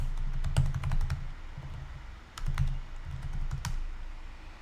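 Bursts of keystrokes on a computer keyboard, close and crisp, typing a search into a web browser in a few quick clusters over a low hum, with no talk.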